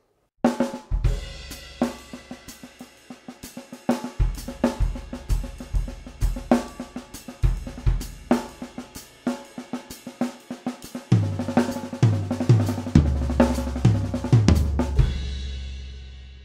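A jazz drum kit plays a syncopated fill with a triplet feel, sharp cymbal and snare hits over kick and tom strokes, building in density toward the end, solo with no talking.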